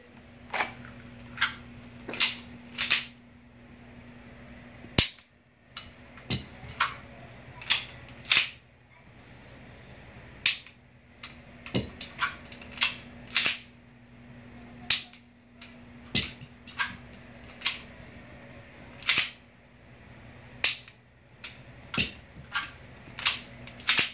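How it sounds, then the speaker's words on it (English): Pistol shots during a speed reload drill, sharp cracks fired in small quick clusters with short pauses between strings, some closer and louder, others fainter and echoing on a range. "loading a magazine, racking the slide, getting on target, pulling the trigger, and doing that 5 times"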